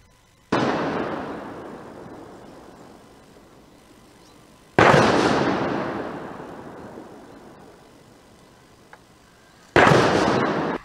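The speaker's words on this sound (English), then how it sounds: "A 21-gun salute to visiting Zimbabwe's President Emmerson Mnangagwa marked the beginning of his three-day state visit in Kenya" Three heavy ceremonial cannon blasts of a 21-gun salute for Zimbabwe's president at the start of a state visit to Kenya, evenly spaced about five seconds apart, each booming loudly and ringing out in a long fading echo outdoors.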